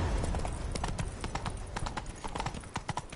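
Horse hooves clip-clop at a gallop in The Witcher 3: Wild Hunt, a quick steady drumming of strikes heard close and fairly loud throughout, with a faint voice briefly present.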